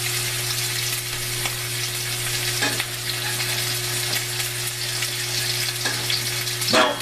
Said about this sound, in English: Just let them get a little bit of a sear